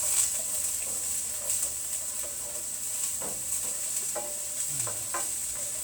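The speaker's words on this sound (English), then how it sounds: "Put those in there. They start sizzling." Steady bright sizzling of onions and carrots frying in a pan for fried rice, with occasional stirring scrapes and clicks over the continuous hiss.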